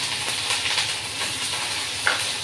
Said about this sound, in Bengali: জিরে ফোড়ন দেওয়ার পর অল্প একটু পেঁয়াজ আর আদা বাটা আছে দিয়ে দিলাম